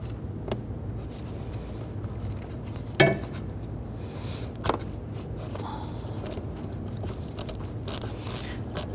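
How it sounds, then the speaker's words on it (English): A hose clamp is tightened in the engine bay of a 2010–2019 Ford Taurus 3.5L V6, with quiet mechanical clicks and a sharper metallic snap among soft handling noises against a low background hum. "Let's go ahead and tighten down our hose clamp."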